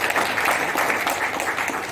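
Seminar audience applauding steadily for two seconds, a dense, even wash of many hands clapping with no pauses or voices.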